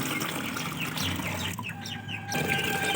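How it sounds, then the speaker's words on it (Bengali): Water poured into a container to make liquid fertilizer for a hibiscus plant, a steady splashing trickle under a busy outdoor background with chickens clucking nearby. "এখানে আমি দিয়ে দিচ্ছি বেশ খানিকটা জল।"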